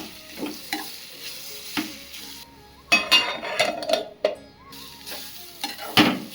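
A spoon stirs ground coconut paste into cooked beetroot in a pan for a beetroot egg thoran, making intermittent scrapes and metallic clinks over a light sizzle, close by and without talk.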